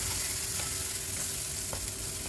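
Lentil paste sizzles softly in a hot pan as it is fried and mixed, a steady low crackle and hiss with faint scrapes of a spoon against the pan.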